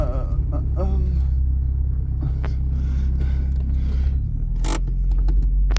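An old Volkswagen Golf 2 sits stationary with its engine idling in a deep, loud, steady rumble, broken by a few small clicks and a brief sharp rattle near the end.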